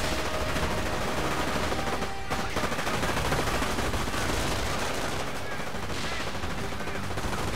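Recoilless guns and other weapons firing in the World War II strategy game Company of Heroes: Tales of Valor, dense, loud bursts of gunfire and blasts layered over constant battle noise throughout.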